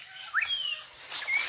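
Parrots and other birds call at a bird rescue enclosure in Belize, giving a quick run of sharp, high chirps and whistles near the listener with no voices.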